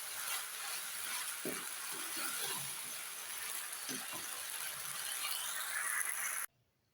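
Chicken macaroni being mixed in a pan in a home kitchen, with a steady sizzle and soft scraping stir strokes running throughout before cutting out near the end.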